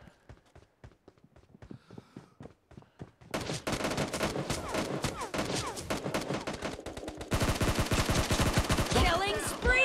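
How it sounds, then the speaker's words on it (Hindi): AK-47 gunfire in PUBG Mobile: loud rapid automatic bursts, densest in the second half, preceded by quieter footsteps and scattered single shots. "This is AK-47."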